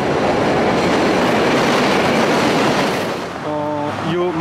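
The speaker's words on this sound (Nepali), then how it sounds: "यो माथिपट्टि ट्रेन चल्छ" An elevated train runs on the overhead tracks above a busy street in Jackson Heights, New York, with a loud, close, continuous rumble and clatter, followed near the end by a brief tonal squeal or horn-like whine.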